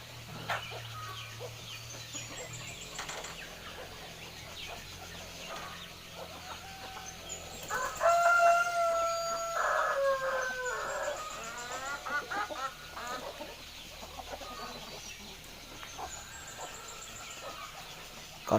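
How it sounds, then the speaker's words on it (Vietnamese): Chickens of a highland H'mông breed cluck outdoors in a high mountain area, with a couple of brief crowing or squawking calls standing out midway over a steady rural background. "Con gà đây."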